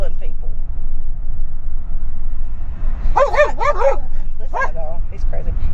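Close by, a dog barks in a quick cluster of sharp yips, then lets out one more bark a moment later, over a steady low background rumble.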